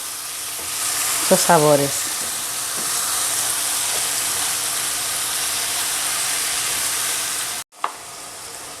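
Diced cuttlefish browning in a hot pan gives a loud, steady, close sizzle that runs unbroken. A brief voice speaks early on, and the sizzle stops abruptly near the end.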